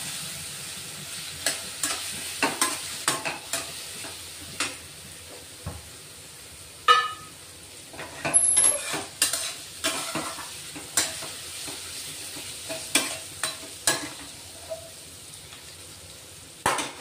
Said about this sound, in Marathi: बटाटे, उकडलेले बटाटे एक घेतले, 2. ते आपण असे परतून घेऊ आता